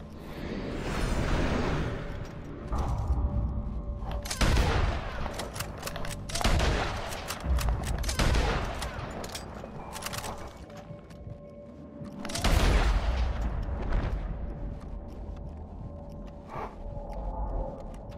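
A minigun fires during a posse rumble at Shady Belle in Red Dead Online, sounding as repeated loud bursts of rapid gunfire separated by short lulls, with no speech.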